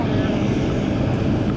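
Airliner cabin on a Lao Airlines flight, with a steady, loud engine drone and broadband rush filling the whole moment without a break.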